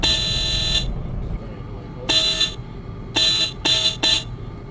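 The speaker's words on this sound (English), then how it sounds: "and then you have your horn." A Volvo 9900 bus horn in the OMSI 2 video game blares in separate honks: one long blast, then a short one, then three quick bursts, over a low background rumble.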